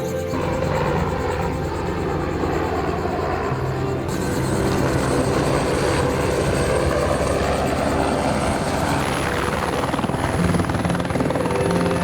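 A helicopter in Alaska runs with a loud, steady, continuous rotor and engine drone that grows slightly fuller partway through, with no clear talking over it.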